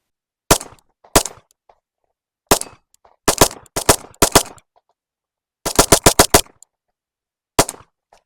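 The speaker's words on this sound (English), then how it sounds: "got 15 rounds loaded up. Just make sure it runs." A handgun test-fires a 15-round magazine outdoors at a park, with loud sharp shots close by. Some come singly and others in quick clusters, separated by short silences.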